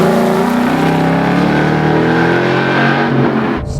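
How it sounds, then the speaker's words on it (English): A Ford Mustang Boss 302 roars loudly along the track at Laguna Seca, its exhaust note rising and holding a strong, rasping drone before cutting off abruptly near the end. "Love the exhaust note."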